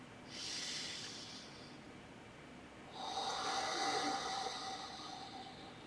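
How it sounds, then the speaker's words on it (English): Slow, airy ujjayi yoga breathing, a long hissing nasal inhale followed after a pause by a longer, louder rushing breath with a slightly constricted throat sound, close to the microphone and with no words spoken. "Inhaling through the nose. Exhaling through the mouth, but keeping the mouth closed."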